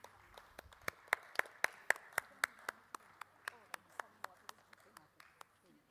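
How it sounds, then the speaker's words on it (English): Audience clapping at a Bharatanatyam arangetram, a run of sharp claps at an uneven but steady pace that peaks early and then tapers off, fairly faint in a quiet hall. "A big round of applause once again"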